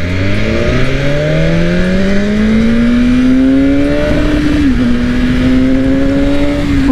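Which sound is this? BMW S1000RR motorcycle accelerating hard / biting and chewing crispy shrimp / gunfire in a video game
BMW S1000RR motorcycle accelerating hard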